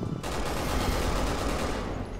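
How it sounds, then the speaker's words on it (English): Rapid, dense video-game gunfire from Resident Evil 6, a sustained burst of overlapping shots running loud and continuous for about two seconds after a brief quieter start. "I missed every shot."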